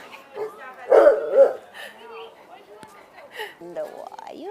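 A dog at an outdoor pet health camp in San Diego, California, gives a short bark and whimpers, close and fairly loud, with people talking softly around it.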